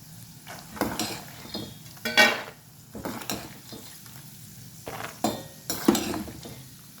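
Roasted gram frying in oil in a pan for home-made Churumuri Chooda, heard as a faint sizzle under scattered scrapes, stirring and clinks of a metal spoon against the pan, close up with no talking.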